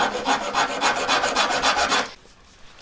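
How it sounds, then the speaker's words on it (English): A hand file rasps steadily across a small metal claw setting for a moissanite earring, about a dozen even back-and-forth strokes up close, then stops into near silence. "So you just file down to the line."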